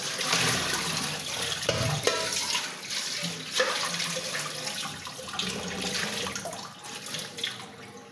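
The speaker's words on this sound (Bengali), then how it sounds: "রান্না শেষে বাসন কলাগুলো ধুয়ে নিতে হয়, খাওয়ার পরে ধুয়ে নিতে হয়" Dishes and cooking utensils being washed in a kitchen sink under a steady stream of running tap water, with splashing and occasional clatter, continuous and close throughout.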